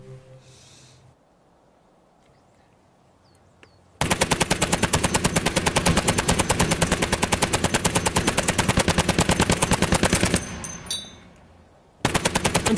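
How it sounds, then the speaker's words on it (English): A WWI-era Vickers machine gun, unused for over 70 years, fires blanks outdoors: a few quiet seconds, then a loud, rapid, sustained burst lasting about six seconds, a brief pause, and another burst starting at the end. "this Vickers machine gun hadn't been fired for over 70 years"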